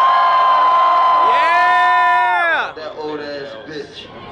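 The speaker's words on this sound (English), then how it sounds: "Make some noise for Tyler." A large festival crowd cheers and whoops loudly for a performer on stage. Voices swell into a sustained roar, then break off into scattered shouts and talking.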